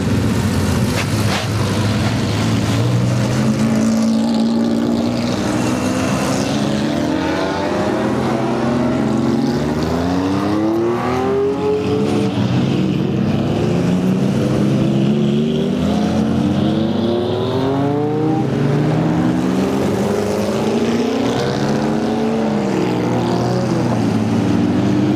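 Porsche race cars on the pace lap at Roebling Road roar past the start-finish line in a loud continuous stream, engines rising and falling in pitch as they pass.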